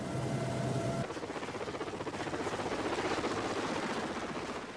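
Steady rhythmic thudding of helicopter rotor blades, loud and continuous, with a constant whirring engine underneath throughout.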